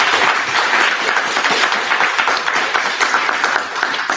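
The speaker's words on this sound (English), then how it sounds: "All right, let's give our two legislators a round of applause." A round of audience applause for two state legislators at a Black Legislative Agenda Day gathering, brisk and fairly loud clapping from a modest crowd that holds steady for several seconds.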